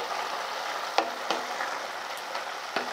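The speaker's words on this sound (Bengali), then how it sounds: "গরম দুধটা দেওয়ার পর আমি খুব ভালো করে একটু মিশিয়ে নিচ্ছি" A spoon stirs a banana flower mixture after hot milk is added in a pan, with a soft continuous sizzle and a few distinct scraping taps against the pan, fairly quiet and without talk.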